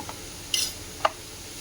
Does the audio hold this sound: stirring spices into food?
yes